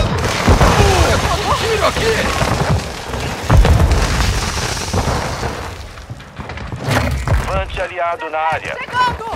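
A flashbang grenade goes off in an online stealth shooter game: a loud, booming burst amid dense game noise, with players talking over it throughout.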